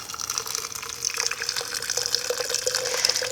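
Boiling water poured for a hibiscus mocktail, a steady splashing gush that runs unbroken for about three seconds, close and clear with no voices over it.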